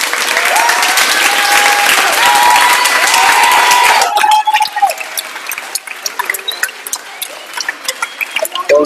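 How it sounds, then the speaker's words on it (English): An audience at a school event claps loudly in dense, sustained applause that thins into scattered claps, with a voice talking over it partway through. "Ok, salutiamo anche noi, facciamo un applauso."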